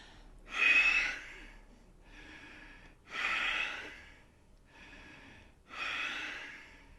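Deep yoga breaths during sun salutation, three long audible inhales alternating with softer exhales, close and quiet in an otherwise still room.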